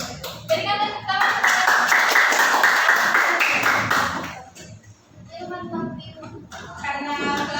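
A classroom of students claps together in a loud burst of rapid, overlapping handclaps lasting a few seconds, fading out, then a second smaller round of clapping starts up.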